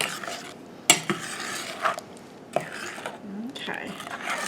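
A spoon stirs strawberry Jell-O mixture in a kitchen pot, giving soft scraping and clinking strokes with a few sharper utensil knocks.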